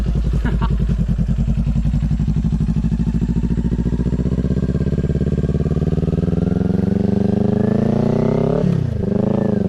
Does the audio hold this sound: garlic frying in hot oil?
no